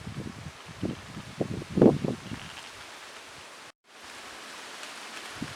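Steady soft wind whooshing outdoors, with a few low rustling gusts near the start, then a brief drop before the breeze continues.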